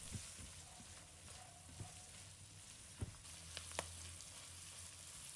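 Dried seafood stir-fried in a wok with salt, light and dark soy sauce and oyster sauce gives a soft, steady sizzle, with a few quiet spatula scrapes and taps against the pan.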